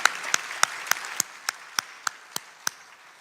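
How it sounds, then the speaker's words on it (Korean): Slow, evenly spaced claps from a church congregation during a Sunday afternoon service, about ten sharp hand strikes roughly a third of a second apart, fairly quiet with no talking. "다시 한번 하나님께 영광의 박수를, 그리고 대원들에게 격려의 박수를 부탁합니다"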